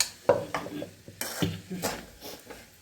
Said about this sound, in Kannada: ಮತ್ತು ಕೈಯಾಡ್ತಾನೆ ಇರಬೇಕು ಸ್ವಲ್ಪ ಸ್ವಲ್ಪ ಹಾಕೋದು ಮತ್ತು ಕೈಯಾಡೋದು